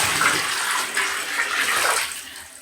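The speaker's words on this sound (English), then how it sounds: "I fill this bowl up with water. And then I dump it in the tub." Water from a filled bowl is dumped into a bathtub, a loud splashing gush that comes in several close pouring surges and then tapers off.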